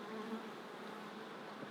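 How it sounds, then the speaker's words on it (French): Honeybee buzzing close and steady as it emerges from its comb cell, a faint continuous drone alone without any voices. "Juste là, elle est en train de sortir de l'alvéole. On est en direct à une naissance d'abeille."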